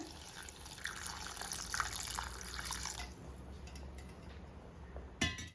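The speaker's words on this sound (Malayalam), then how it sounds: "ഇതിലേക്ക് ഞാനൊരു അല്പം ചൂടുവെള്ളം ചേർത്ത് കൊടുക്കാണ്" Hot water poured into a Kerala-style curry with mango and drumstick pieces, a steady splashing pour for about three seconds that fades into softer bubbling, followed by a sharp clink near the end.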